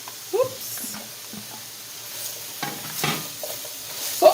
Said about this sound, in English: So I'm going to saute our mushrooms for about 3 to 5 minutes.